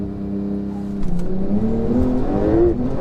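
Porsche 911 Turbo S launching hard on a damp surface, engine note rising steadily in pitch as it accelerates, loud and close throughout.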